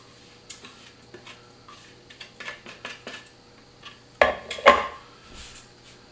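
A spatula spreads cheesecake crust across the bottom of a springform pan, giving scattered soft scrapes and light taps, followed by two sharper clinks of metal against the pan near the end.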